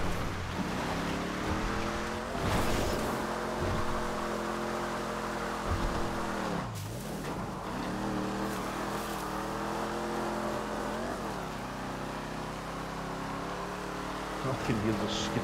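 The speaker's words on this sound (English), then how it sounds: "I can hear the screaming of that cockpit engine at the back of my head." Comet sports car engine in the video game GTA 5, a steady loud engine drone with rising and falling revs and a sharp dip mid-way, running continuously under people talking.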